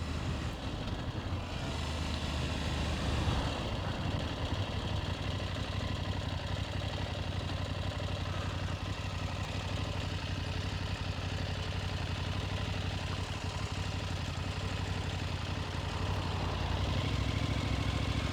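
Steady low drone of a KTM 790 Adventure S motorcycle engine idling, continuous and even throughout, close with some wind rumble and no talk.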